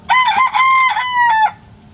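A chicken gives one loud, close, drawn-out call that wavers in pitch for about a second and a half, then stops.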